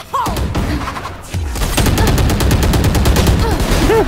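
Rapid video game gunfire bursts loudly in an online shooter match, dense automatic shots with a brief pause near the start, then a continuous barrage to the end.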